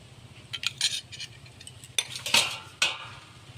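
A spoon clinks and scrapes against a bowl while palm pulp batter for taler bora is mixed, in several uneven bursts of sharp metallic taps close up, with no talking.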